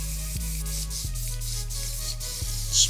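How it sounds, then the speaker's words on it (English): Hairspray hisses in a steady continuous spray near a client's hairline before a haircut, close and unbroken over a low motor hum, with a few soft clicks. "I will spray some hairspray in the area where I'll be outlining the hairline."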